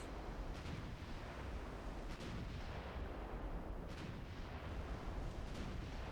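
Heavy 20-inch naval guns firing in the Ultimate Admiral Dreadnoughts video game: a constant low roar of sea and battle with several deep, muffled gun booms scattered across, distant and rolling rather than sharp.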